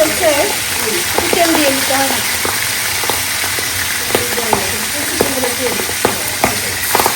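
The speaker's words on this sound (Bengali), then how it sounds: "পাবদা মাছ একটু ভাজি করে নিই" Pabda fish frying in a pan gives a steady, close sizzle with occasional spits and crackles, continuing while people talk nearby.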